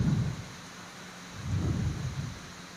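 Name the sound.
rain with thunder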